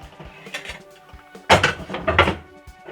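A metal pot clanks and scrapes as it is set down on a stove, with softer knocks and clatter around it.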